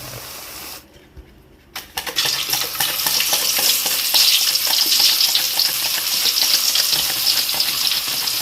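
Raw banana slices for chips drop into a pan of hot oil; after a brief quiet moment a loud, vigorous bubbling sizzle surges up and holds steady, close and continuous.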